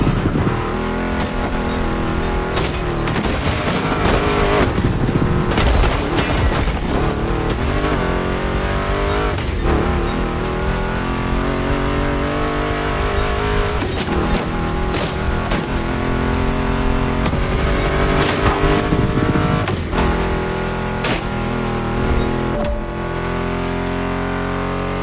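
Race car engines in The Crew Motorfest, driving fast through a timed checkpoint event: loud, continuous engine roar with repeated revving, shifting pitch sweeps and occasional tire squeal, close up and sustained for the whole stretch.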